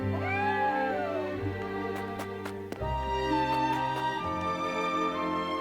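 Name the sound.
cat meowing in the video game Triangle Strategy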